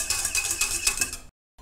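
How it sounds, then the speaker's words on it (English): A hyperpigmentation serum, a Vitamin A alternative, being stirred in a container, a close run of light clinking scrapes in a steady rhythm for about a second before stopping dead. "I'm just going to give that a little final stir"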